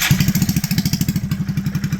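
The starter on a Kubota cranks after the relay is jumped, producing a loud, close, rapid rhythmic churning of the engine turning over without catching, steady for about two seconds.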